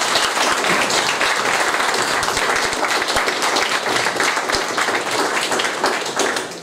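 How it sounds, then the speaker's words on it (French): Sustained applause from an audience at a political forum, dense and steady for the whole stretch with no pause, loud and close, with scattered sharper claps standing out above the wash. "les organisateurs et pour Yvan Benedetti, ce serait bien que vous les applaudissiez."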